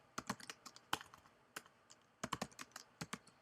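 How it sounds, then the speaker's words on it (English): Typing on a computer keyboard, quick irregular bursts of close, crisp key clicks with short pauses between them, fairly quiet and with no talk. "I will type in Google."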